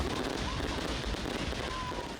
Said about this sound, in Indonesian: Ratusan kembang api menghiasi langit Manokwari, hampir 1 jam kembang api dipasang.